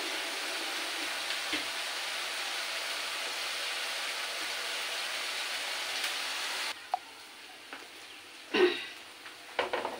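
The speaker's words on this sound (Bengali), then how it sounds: "মশলাটা আমি ভালো করে একটু ভাজা করে নিই।" Masala spice paste for a taro and prawn curry frying in a pan, giving a steady hissing sizzle for several seconds before it drops away to quieter clattering and a few utensil knocks.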